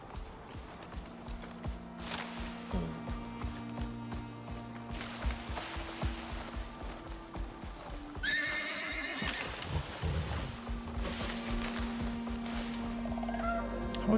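Horse neighing and whinnying in the survival video game Icarus, with clip-clop hoofbeats and low game ambience; a loud whinny rises midway over steady background tones, no talk.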